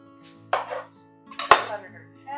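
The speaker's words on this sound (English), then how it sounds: "Next, we're going to do our red onion. So we're going to go ahead and cut this." A knife cuts through a red onion on a board with two distinct hard knocks and some softer handling clatter, close and fairly quiet, and a voice starts briefly at the end.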